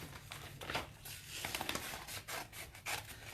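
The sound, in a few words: scissors cutting out a sunflower transfer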